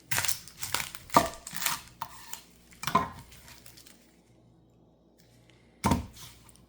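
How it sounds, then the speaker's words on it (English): A knife cuts an onion in half on a board, a few sharp crunching slices and knocks against the cutting surface, spaced out with quiet gaps between them. "If you want it diced, cut it in half first."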